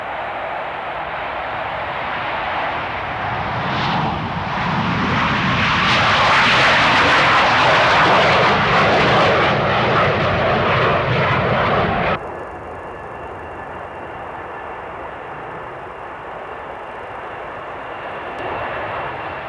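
A loud roaring airplane passes close to homes at the end of London's main runway, the jet rumble swelling to a peak then cutting to a lower steady background drone.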